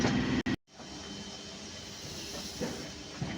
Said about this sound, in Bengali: এই যে বর্ধমান স্টেশন ঢুকছে গাড়ি